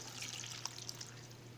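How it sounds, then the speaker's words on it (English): Water pours steadily into a pot of chopped red cabbage with a soft splashing trickle and a few small drips, close and fairly quiet. "add some water"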